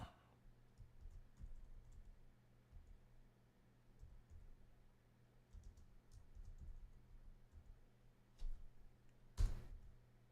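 Typing on a computer keyboard, quiet clustered key clicks in irregular bursts at close range, with a louder knock near the end and no talking.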